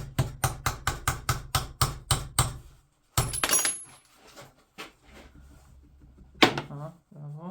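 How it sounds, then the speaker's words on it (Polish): Hammer strikes drive a metal pin into a handmade Nessmuk-style knife handle: a fast run of about ten sharp, close knocks, then scattered taps and a voice talking. "Walę sobie tego pina."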